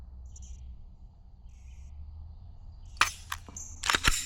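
A Smith & Wesson SD9 pistol's trigger is pulled through its long travel to a final crisp click, heard as a couple of sharp close clicks after quiet room tone.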